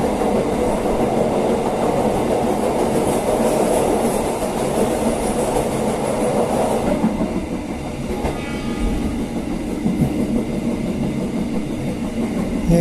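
The Siliwangi passenger train rumbles across the Lewi Jurik railway bridge over the Citarum River, a continuous loud roar with rhythmic clickety-clack of wheels on rails, heard from inside the moving train.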